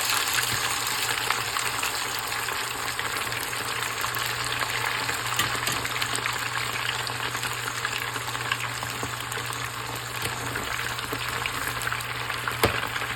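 Meat for Haitian griot sizzling and frying steadily in a pan, a dense continuous crackle with a faint low hum underneath, close and even throughout, with a brief spoken word near the start.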